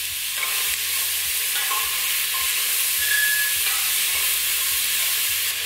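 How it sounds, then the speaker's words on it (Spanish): Onion sautéing over low heat in salted chicken drippings for a chicken stew, a dense continuous sizzle with a faint rhythmic scraping or ticking underneath, close up. "Con el fondillo que se ha quedado aquí del pollo vamos a pochar la cebolla."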